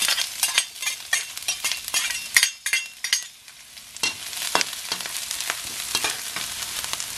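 Onions frying in olive oil for tofu sisig, crackling and hissing up close, with frequent utensil stirs and scrapes in an uneven rhythm and no voices.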